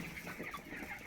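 Broiler chickens cluck faintly in a brief continuous murmur, several birds close together in a poultry shed.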